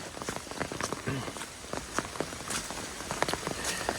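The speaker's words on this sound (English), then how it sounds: "This rain's supposed to basically be an all-day event." Steady patter of rain on a hard surface on the Appalachian Trail, with scattered close drips and taps throughout.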